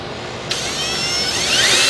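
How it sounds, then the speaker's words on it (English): A power drill bores a pilot hole into the metal transmission pan of a Ford Crown Victoria with a P7B transmission, starting abruptly and whining steadily at close range, pitch shifting slightly as it cuts. "So I'm going to drill a pilot hole first."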